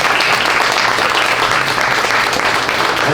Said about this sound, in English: Clap it up, make some noise for that.